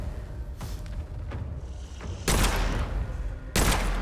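Pistol shots in the video game Witchfire fire from a distance, with softer reports followed by two loud, booming blasts about a second apart, each trailing off into a rumbling echo.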